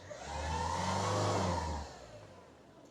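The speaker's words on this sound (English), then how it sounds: "if I kind of rev it around to 2000, foot's off the pedal and it kind of continues revving and then holds it there" Citroen Berlingo engine revved to about 2000 rpm, climbing smoothly then holding at a steady hum before dropping away, a close mid-pitched drone heard alone.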